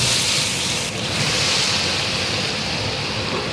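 Ten kilos of chopped onions hit hot oil in a large pot while making vegetable biryani, giving a loud, steady broadband sizzle that hisses without a break for the whole span and has no voices over it.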